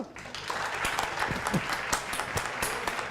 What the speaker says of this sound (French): Applaudissements donc pour Gauthier Fourcade